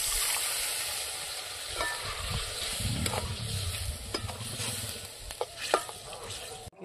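Prawns and spinach sizzle in a hot pan as a little water goes in, a steady frying hiss with scraping stirs and occasional sharper spatters, close and alone without talk.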